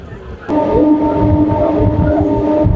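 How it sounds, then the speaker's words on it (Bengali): A Namkhana local train pulling into platform 4 at Ballygunge station, a loud steady rumble with a sustained horn-like drone that begins abruptly and fills the clip. "4 নম্বর প্ল্যাটফর্মে আসছে ট্রেনটা"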